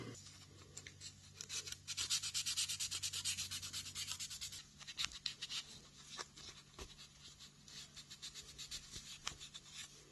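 Body filler being sanded on a car's bodywork around the wing, a steady close rasping scrape in repeated strokes, louder in the first half and continuing without any talk.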